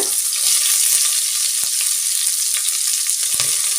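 Steady, crackling sizzle of thinly sliced medium onions frying in a hot pan, with a few sharp clicks of a utensil stirring; no voices.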